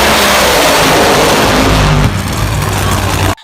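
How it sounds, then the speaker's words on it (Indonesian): A very loud, raw top fuel dragster engine roars at full throttle during a burnout, a dense blasting rumble that drops slightly then cuts off abruptly at the end. "Dragster ini melakukan burnout untuk memanaskan ban agar traksinya maksimal."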